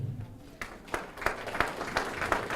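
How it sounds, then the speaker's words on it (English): Scattered clapping from a banquet audience at a chamber of commerce annual dinner, a series of separate sharp claps spreading through the room at moderate distance, with faint voices underneath. "please stand so that we can recognize you and applaud your membership"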